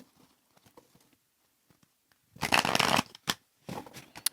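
Tarot cards being shuffled and laid down on a table, a soft tapping lead-in followed by a loud riffling burst of shuffling and a few short slaps of cards, close with no voices.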